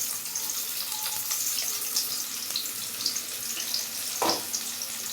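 Onions and green chilies hitting hot oil in a pan, a steady bright sizzle with scattered crackles and a brief clatter of stirring near the end, no talking.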